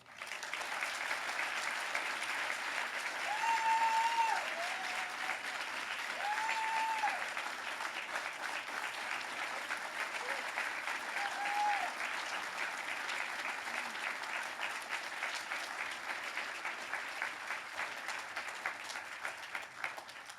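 A large audience applauds steadily at a celebration of Secretary Riley and the Riley Institute's 20th anniversary, a dense, sustained wash of clapping with a few short whistles cutting through near the start.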